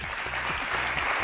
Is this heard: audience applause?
yes